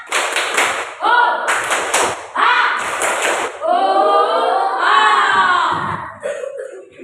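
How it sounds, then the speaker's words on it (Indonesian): A classroom group claps in a rhythmic pattern, taps and thuds in quick sets, mixed with children's voices chanting and shouting along. "kita tepuk semangat dulu. Tepuk semangat."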